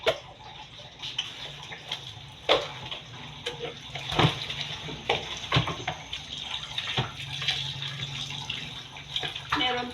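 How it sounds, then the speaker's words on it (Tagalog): Pork chop rinsed under a running tap, a continuous close splash of water broken by irregular knocks and handling clatter. "tingnan nyo, yung pork chop, huhugasan ko"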